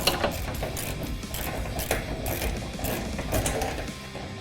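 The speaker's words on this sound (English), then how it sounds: "It's a 19 millimeter. Just come in here and loosen both of those up." A ratchet works loose the 19 mm strap bolts on a Ford Powerstroke cab-chassis fuel tank, giving rapid repeated clicking close by.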